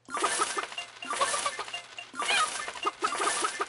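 Cartoonish chicken clucks and squawks from the farming video game Farm Empire come in quick clustered bursts, repeating twice over a few seconds at fairly low volume.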